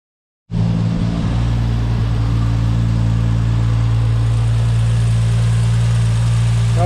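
A car engine starts up and settles into a smooth, steady idle after an exhaust leak repair, loud and close, with a constant low rumble and no sputtering.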